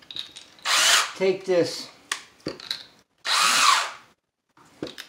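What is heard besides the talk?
power drill driving a screw to anchor a rail bolt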